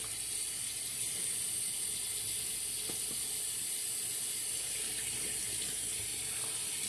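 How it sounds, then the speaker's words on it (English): Tap water runs in a continuous steady hiss into a sink while hands are rinsed during a shave, soft and unbroken throughout, with no talk. "Rinse my hands."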